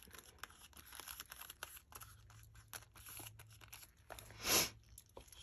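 Scissors cut away a torn scrap of paper ephemera, a jumbo playing card, for a journal craft project: soft rustling handling, then one distinct, fairly close snip near the end, with no talk.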